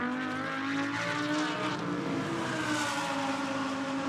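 A GT race car in a Blancpain GT Sports Club qualifying session at Barcelona works through the final chicane, its engine note rising and falling with shifts and braking, heard at a distance and fairly faint.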